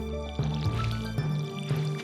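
Watering can sprinkling crops in the farming game Stardew Valley, heard as three short splashing water bursts in an even rhythm over steady game music, with no talking.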